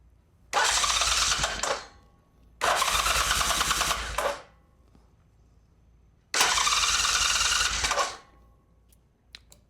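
A Norton motorcycle with a carburetor float problem is cranked three times. Each loud, steady starter burst lasts about one and a half seconds and is followed by quiet gaps, and the engine never catches.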